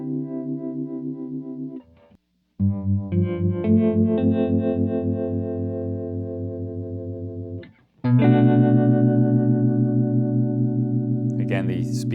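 Electric guitar chords through a Strymon Flint pedal's tremolo at a fast speed, sustained notes pulsing with a quick flutter, rung out in three strums separated by short gaps, with no talk.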